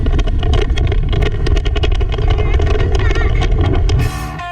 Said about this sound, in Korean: 신나게 도로를 달리는 스쿠터 무리.